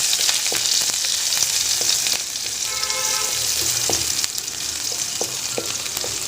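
Ginger and chopped green chillies fry in a pan, giving a steady hissing sizzle with occasional clinks and stirring scrapes, moderately loud and alone.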